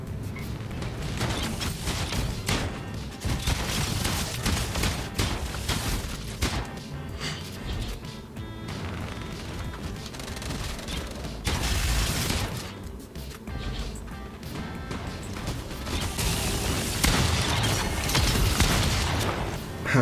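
Chimera pistol fire in Fortnite, a dense stream of rapid gunshots and booming impacts that runs loud and continuous with brief lulls, mixed with game effects.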